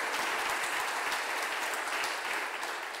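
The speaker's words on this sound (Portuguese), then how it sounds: "Um aplauso para o Senhor" Dense applause from a church congregation fills the whole stretch at a steady, even level, a continuous wash of many hands clapping together during a worship service.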